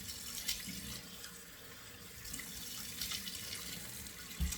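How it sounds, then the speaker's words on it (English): Water runs steadily from a bathroom sink tap as it is left on to wet the face before lathering with stick soap. The hiss is close and continuous, with no talking. "So I'm just turning my water on in my sink, let it run here."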